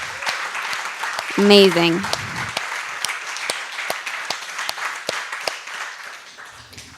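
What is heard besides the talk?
applause for the storytellers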